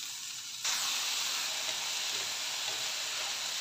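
Grey oyster mushrooms drop into a hot stir-fry pan with lemongrass and ginger, setting off a sudden loud, steady sizzle that holds at even strength to the end.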